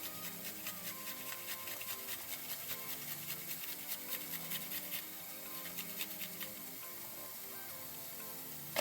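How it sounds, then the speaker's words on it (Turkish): Quiet, rhythmic rasping of a garlic clove being grated, steady scraping strokes repeating close by. "Şimdi bir diş sarımsak içerisine rendeliyoruz."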